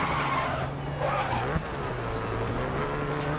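A car drifting in GRID Autosport, engine droning steadily under a continuous tire squeal and skid, with a brief thump midway, all close and fairly loud.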